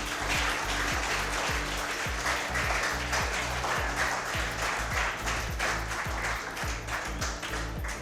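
Steady applause from an audience at an educational event, continuous and fairly loud throughout, with rhythmic beats running underneath the dense clapping.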